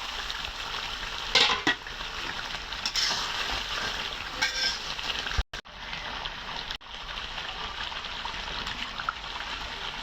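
Green chilies and chicken sizzle and fry in a pan for a Bangladeshi country-chicken and potato curry, with a steady close hiss and occasional stirring scrapes and knocks.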